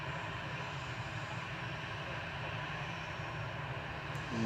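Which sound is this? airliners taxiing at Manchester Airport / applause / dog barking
airliners taxiing at Manchester Airport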